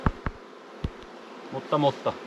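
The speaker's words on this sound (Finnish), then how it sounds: "Tosiaan mehiläiset lentää tuohon heinikko ja levylle" Honeybees fly around close by during a honey harvest at the hives, buzzing in short passing bursts with a few dull knocks in between.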